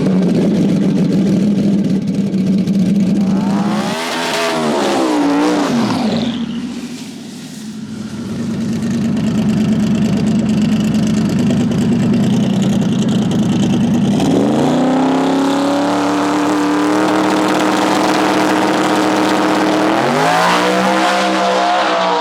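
A drag race car launches hard from 5,000 RPM, its engine screaming loud and close through rising gear pulls, easing off briefly before revving up again in sustained high-pitched roars.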